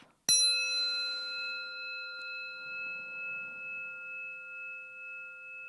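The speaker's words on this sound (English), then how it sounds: "we'll ring the bell" A single bell is struck once after a breathing exercise, a clear bright ding that rings on with a long, slowly fading shimmer, faint soft breathing beneath it.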